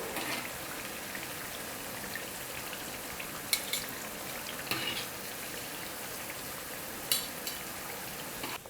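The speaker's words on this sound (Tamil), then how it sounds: "இதே போல் இன்னும் மீதி இருக்கிற உருளைக்கிழங்கை வந்து நான் எண்ணெயில் போட்டு பொரிச்சு எடுத்துக்கிறேன்" Potato snacks deep frying in hot oil give a dense, continuous bubbling hiss with a few sharper crackles and clinks, loud and close, with no voices.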